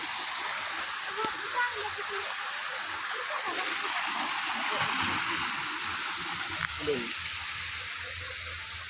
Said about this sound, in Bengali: দেখো এখান থেকে ঝর্ণা ঝরছে কল কল কল কল আওয়াজ শুনতে পাচ্ছে সবাই